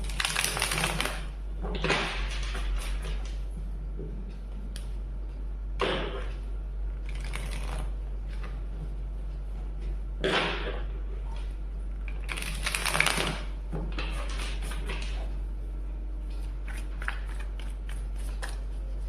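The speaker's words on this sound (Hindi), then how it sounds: "ओके, तो चलिए कार्ड शफल करते हैं।" Tarot cards shuffled by hand for a Hindi Virgo reading, giving repeated bursts of crisp riffling and slapping at irregular intervals over a steady low hum, with no talk.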